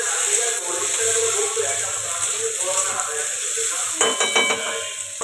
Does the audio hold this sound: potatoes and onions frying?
yes